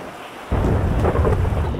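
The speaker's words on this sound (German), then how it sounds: "Erstmal dick Gewitter." Thunderstorm in GTA V: a heavy rumble of thunder breaks in after a quieter moment, with a steady wash of rain continuing loud and close.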